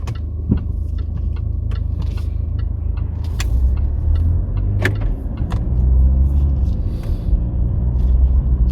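A car drives along the edge of a former RAF airfield in Northamptonshire, a steady low road rumble and engine drone filling the interior with occasional small clicks and rattles throughout.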